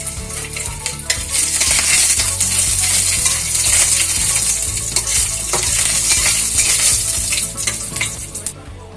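Dry fruits fry in hot ghee in a pan, a loud, continuous close sizzle and crackle with stirring scrapes and occasional metallic clinks throughout.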